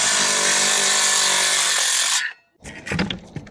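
A power saw rips through roof plywood with a loud, close, continuous whining buzz for about two seconds, then cuts off, leaving a few scraping and knocking sounds.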